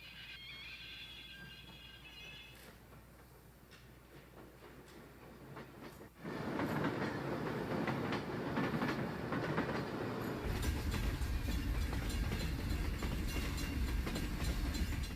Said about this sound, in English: The train then began to roll downhill toward Lac-Mégantic